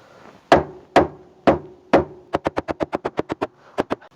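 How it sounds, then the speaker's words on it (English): Four heavy, evenly spaced hammer blows on the metal body of a Saab 9-3 during rear-end damage repair, then a quick run of about ten lighter knocks and two final taps, close and sharp. "so I'm resorting now to just knocking it with the hammer."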